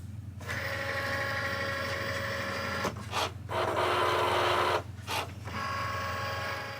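A cutting machine fitted with a fine point blade cuts a Valentine's card, giving a steady whirring, buzzing motor drone with brief pauses and bursts of higher grinding as the carriage moves.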